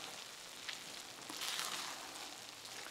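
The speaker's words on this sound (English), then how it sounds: "let's give it another stir" Orzo and ground beef stirred in a hot pan, a steady close sizzle and crackle of frying with faint scraping movement, no voices.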